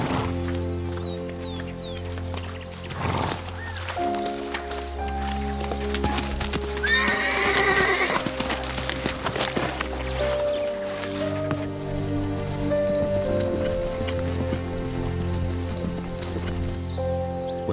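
Wild horses fighting for rank in a band in a Western Australian desert, with repeated shrill neighs and squeals, thudding hooves and scuffling, over steady background music.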